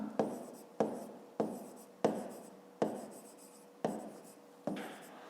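Pen strokes on paper while a math exercise is worked out by hand, seven regular scratchy strokes about every 0.7 seconds, each starting with a sharp contact and fading, close and fairly quiet, with no talking.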